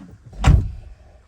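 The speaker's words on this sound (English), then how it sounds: "let's shut this door for a second." A single door on a 2021 Nissan Navara double cab pickup thuds shut nearby, a short muffled slam in an otherwise quiet space.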